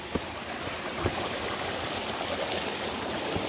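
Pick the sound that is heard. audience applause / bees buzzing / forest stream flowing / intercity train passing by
forest stream flowing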